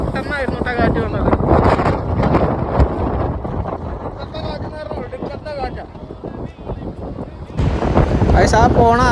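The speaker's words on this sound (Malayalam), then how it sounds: "ഇതിലേക്ക് പെട്ടെന്നായിരുന്നു കേട്ടോ കാറ്റ് വന്നത്" Strong, sudden wind blows outdoors, roaring and buffeting the microphone loudly throughout, with voices partly audible beneath the gusts.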